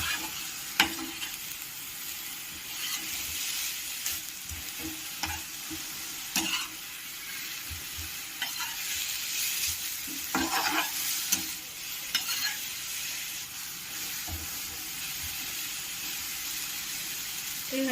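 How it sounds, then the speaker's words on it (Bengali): Fresh coriander leaves frying and being turned in a wok for a pickle, giving a continuous sizzle with irregular scraping and clanking stir strokes throughout, without speech. "নাড়াচাড়া করে নেব"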